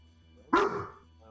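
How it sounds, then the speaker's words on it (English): A single sharp dog bark rings out indoors, fairly close, over a quiet background during a storm. "Dog's barking"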